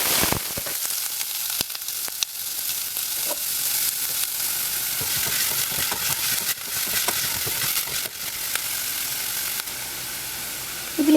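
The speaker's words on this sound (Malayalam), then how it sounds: "എണ്ണ ചൂടാകുമ്പോൾ ഇതിലേക്ക് നമ്മൾ അരിഞ്ഞു വെച്ചിരിക്കുന്ന സവാള ചേർത്ത് ഒന്ന് ട്രാൻസ്പെറൻ്റ് ആവുന്നവരെ വഴറ്റി കൊടുക്കാം." Chopped onion sautéing in hot oil, a steady close sizzle with intermittent clicks and scrapes of stirring, no one speaking.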